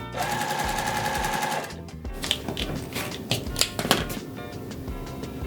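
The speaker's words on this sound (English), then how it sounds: "So I'm gonna sew this and then we'll put our block together" A sewing machine stitches a quilt block in a fast, even mechanical whir that stops partway, followed by scattered clicks and knocks of fabric and parts being handled.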